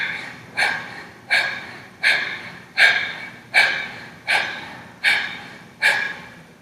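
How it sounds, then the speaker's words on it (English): Bhastrika pranayama breathing, forceful breaths driven through the throat: nine rhythmic, evenly spaced rushing breaths, each a strong burst that fades, heard close and alone with no talking. "Bhastrika sounds like this."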